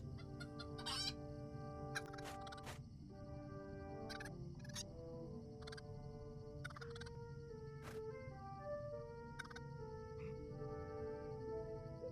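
In the game Lord of the Rings Online, in the Shire, a rooster crows amid clucking chickens, with bright chiming notes and sharp clicks layered over a steady low hum.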